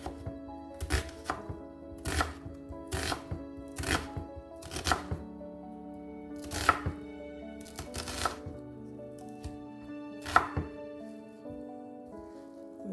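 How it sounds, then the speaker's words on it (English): An onion chopped with a knife on a board for Southern fried cabbage, about a dozen crisp, evenly spaced cuts close by, with a low hum underneath. "Then we're going to cut our onion."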